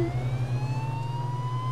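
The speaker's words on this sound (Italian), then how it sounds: "stiamo andando in giro con le sirene" Police car siren in the video game H1Z1, a steady wailing tone with a low engine hum beneath, continuous and close.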